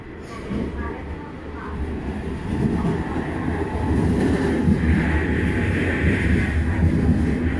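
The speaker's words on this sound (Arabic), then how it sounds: "هذا هو القطار" A train at a German railway station rumbles and rolls nearby, its low wheel and engine noise building steadily louder, with a person talking over it.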